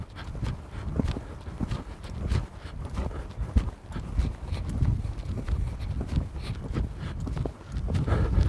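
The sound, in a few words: horse hooves walking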